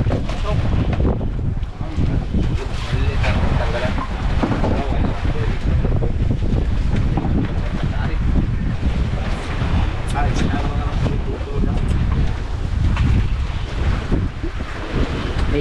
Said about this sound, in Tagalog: Medyo malaki na ang alon mga kabisig, oh. Malaki na ng alon.